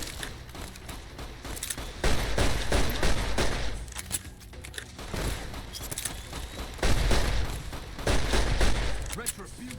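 Bursts of rapid video-game gunfire from Fallout New Vegas, loud volleys of shots and booms recurring through the clip, with a voice talking over parts of it.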